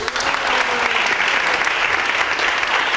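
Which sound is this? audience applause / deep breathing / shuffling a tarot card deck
audience applause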